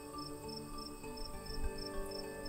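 Crickets chirp in a steady, rhythmic pulse, a faint high trill repeating over a quiet background with no voices.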